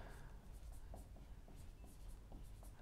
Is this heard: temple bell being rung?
no